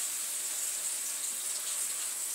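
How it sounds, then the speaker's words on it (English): Water runs from a tap in a steady, even hiss, close and unbroken, with no voices over it. "Here we go. Water running."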